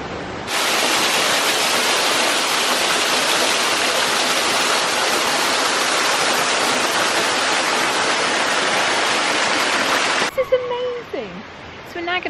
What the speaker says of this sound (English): So the lower leet is taking the water away.